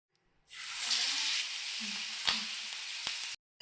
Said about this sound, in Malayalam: മീനെല്ലാം വറുക്കാൻ വേണ്ടിയിട്ട് അടുപ്പത്ത് വെച്ചിട്ടുണ്ട്